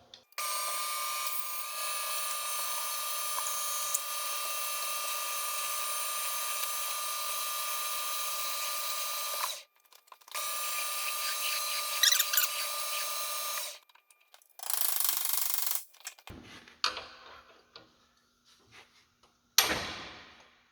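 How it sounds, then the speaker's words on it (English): A power drill bores out a bolt on an antique American Scale Company beam scale: a loud, steady high whine for several seconds, then shorter bursts of drilling and scraping with brief pauses between. "I'm going to drill it out to the same size as that bolt"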